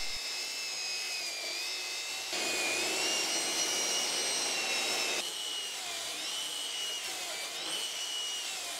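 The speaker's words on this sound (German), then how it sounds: "Dann heißt es mal wieder schleifen." Power sanding of a fiberglass (GFK) hull hole repair, a steady high-pitched whirring grind that runs continuously at close range, growing louder and harsher in the middle stretch before easing back, with no talk.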